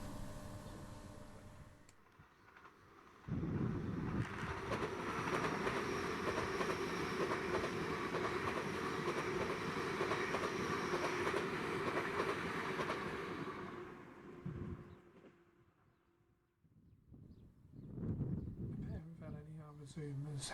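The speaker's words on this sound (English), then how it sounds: "All northbound East Coast mainline traffic was now using the down slow Stamford line as far as Helpston Junction, as you can see with this LNER Azuma." LNER Azuma train passing on the East Coast main line near Marholm, running on the down slow line: a loud, steady rolling rumble builds quickly, holds for about ten seconds, then fades, with another rail sound returning near the end.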